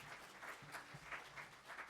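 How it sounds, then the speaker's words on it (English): An audience at an early career award lecture claps briefly for a dissertation advisor, a faint, soft patter of scattered hands heard from a distance. "yeah, you can clap for her. Go ahead"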